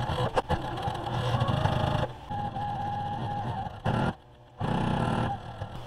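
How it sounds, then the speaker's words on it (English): A sewing machine stitches a long fabric tube for a kitchen towel boa, its motor whirring steadily and close, with short pauses near two seconds and a clear stop just past four seconds before it runs again. "So I'm going to go ahead and sew this whole thing."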